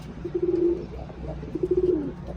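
Tumbler pigeons in a loft give two soft, low rolling coos about a second apart, close by over a dull background rumble with light rustling.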